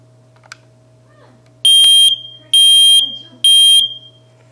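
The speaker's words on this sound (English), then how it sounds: "testing of the smoke detectors" Smoke detectors being tested give three loud, shrill electronic beeps, each about half a second long and evenly spaced, over a low steady background hum.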